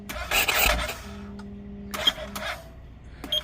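A CFMOTO 800 off-road vehicle with a fuel-injected engine and a dead battery makes a few weak, struggling cranking attempts with short whirring bursts and pauses, failing to start.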